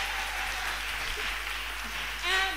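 A church congregation applauds together in a steady, fairly loud wash of clapping that holds throughout, with a brief sung or spoken voice rising near the end.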